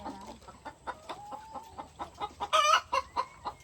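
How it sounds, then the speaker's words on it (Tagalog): A hen clucking after laying an egg: a steady string of sharp, rhythmic clucks close by, rising into a louder squawking cackle partway through. "Tapos na sa magitlog, grabe niya yung ingay."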